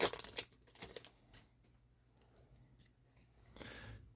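Weiss Schwarz Dandadan trading card booster packs are torn and crinkled open up close, with sharp bursts of foil ripping followed by a quieter stretch of faint rustling and card handling.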